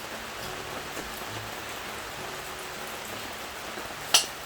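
Steady rain falls outdoors around a mountaintop country house, a soft even hiss with scattered drops, and one sharp tap near the end stands out above it.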